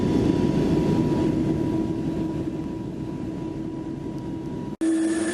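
Loud, steady roar of a Boeing 787 airliner taking off, a continuous heavy rumble with a sustained engine tone that cuts off abruptly near the end, followed by a brief different hum.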